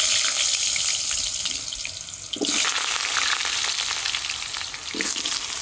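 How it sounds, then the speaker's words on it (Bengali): Potatoes dropped into hot mustard oil, a loud close sizzle and spitting hiss that continues steadily with brief bursts of stirring. "তেল গরম হয়ে গেছে, এখন আলুগুলো ভেজে নেব।"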